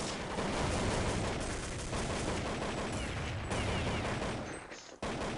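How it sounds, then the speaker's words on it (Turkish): Rapid gunfire from the video game Counter-Strike 1.6, dense continuous bursts of rifle shots filling the clip at steady loudness, with a brief drop near the end before firing resumes. "ateş etmeye başladı"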